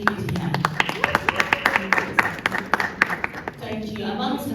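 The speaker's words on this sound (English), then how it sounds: "And a round of applause, ladies and gentlemen, for making it here." Audience at a youth content creator event in Bloemfontein, Free State, clapping in a fairly sparse, steady round of applause that fades out, with a voice speaking over it.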